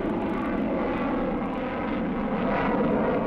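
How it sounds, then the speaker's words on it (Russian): An R-1 rocket engine runs with a dense, steady roar on an old technical recording, its thrust dropping from 25 to 8 tonnes during a two-stage shutdown. "двигатель отключается в две ступени. С 25 тонн тяга снижается до 8 тонн."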